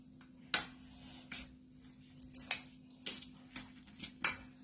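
Potato and poha vada mixture being stirred together in a bowl, with several sharp clinks and scrapes of a spoon against the bowl spaced irregularly, close and fairly quiet.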